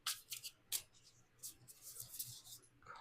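Tarot card deck being shuffled in a few quick bursts, crisp papery riffles and slides with short pauses between, close and fairly quiet, no talking.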